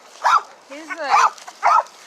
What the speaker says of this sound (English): Cute dog, though.